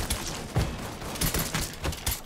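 Rifle gunfire in the crime video game Mafia 3: a loud, rapid run of sharp shots in clustered bursts, repeating steadily across the whole stretch with no talk over it.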